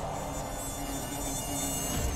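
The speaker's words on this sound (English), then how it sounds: "but damn, I hear those bees." Bees buzz in the virtual reality game Karnage Chronicles, a continuous insect drone over a short stretch with no speech.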